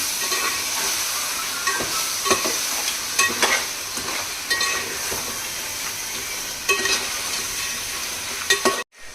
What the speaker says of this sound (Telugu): ఇప్పుడు మనం ఈ టమాటా ప్యూరీ ఇందులో వేసేసుకోవాలి.